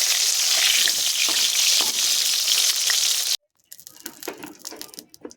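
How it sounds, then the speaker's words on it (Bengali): Pointed gourd (potol) pieces fry in oil with a steady, loud sizzle for about three seconds, then the sizzle cuts off, followed by softer scraping and clinking as they are lifted out. "পটলগুলো আমি ভেজে নিয়েছি এবং আমি পটলগুলো তুলে নেব"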